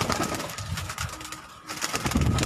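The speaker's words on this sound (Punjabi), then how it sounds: "ਲਾਹੌਰ ਦੇ ਜਿਹੜੇ ਚੈਂਪੀਅਨ ਕਬੂਤਰ ਨੇ ਸੱਤ ਕਬੂਤਰ" Champion pigeons on a rooftop in Lahore coo softly in short, repeated calls close by, with faint background noise and no talking.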